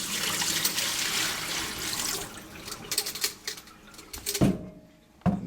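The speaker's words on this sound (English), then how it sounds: "You can then pour out the fluid." Fluid pours and splashes out of an ultrasound catheter model for jugular and carotid vessels, a close, continuous watery gush that breaks into trickles and drips toward the end.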